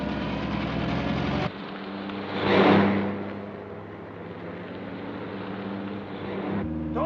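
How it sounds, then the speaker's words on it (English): A 1940s car engine drones steadily during a chase. The tone drops from a louder roar to a lower, muffled hum, briefly swells with a rushing surge, then settles back into a constant rumble. "There's a car following us."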